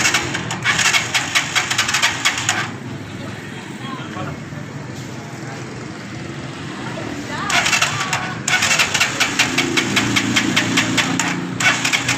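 Bursts of a motorcycle engine revving and idling with a rapid knocking rhythm, interrupted by a stretch of talking, then the engine sputters again.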